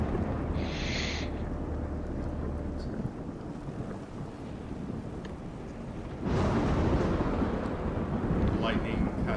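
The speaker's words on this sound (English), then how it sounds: "Lightning cascades over and over, striking the surrounding stones." Thunder and lightning strikes as ambience for a tabletop game session, a low, continuous rumble with a heavier roll building near the end, mixed with a windy wash and a brief high tone early on.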